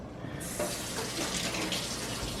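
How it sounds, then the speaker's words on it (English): Tap water runs into a sink while retainers are rinsed under the stream, a steady hissing splash that starts abruptly and continues close and even, with no voices. "And I rinse them under water to get the cleaning stuff off."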